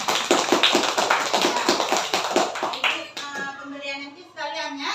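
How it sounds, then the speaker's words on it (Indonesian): A classroom of young pupils claps their hands for classmates, a brisk run of close, sharp claps for about three seconds before fading into a voice and chatter. "Mana tepuk tangannya untuk kawan?"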